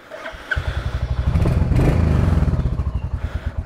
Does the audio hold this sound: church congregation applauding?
no